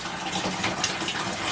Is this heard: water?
yes